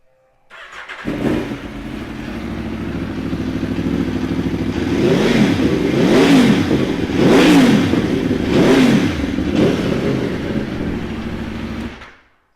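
A 2015 Aprilia Tuono V4 1100 Factory motorcycle engine starts up close by, settles into a rumbling idle, then revs sharply three times before cutting off.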